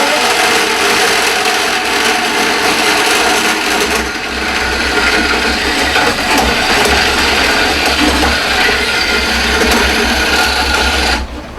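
A power tool grinds steadily on a metal angle bracket in a workshop, a loud, continuous buzzing whir that runs unbroken for about eleven seconds before cutting off abruptly at the end.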